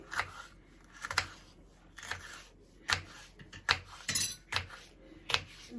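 A knife chopping bell pepper into small pieces on a board, a run of sharp, irregular clicks and taps close by, with no talking.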